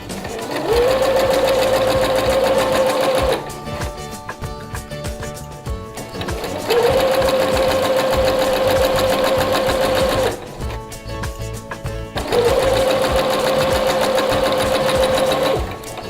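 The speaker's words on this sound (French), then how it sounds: "Réalignez votre tissu, baissez le pied et continuez à coudre." A sewing machine runs in three long, loud bursts, stitching fabric while attaching a visible zipper, with short pauses between runs as the presser foot is lifted and the cloth realigned.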